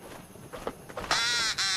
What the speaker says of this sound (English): It's the blue-footed booby again.